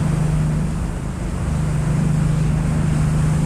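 Steady low engine drone of the Isle Royale Queen IV passenger ferry under way on Lake Superior, with constant rushing water and wind noise, no pauses or voices.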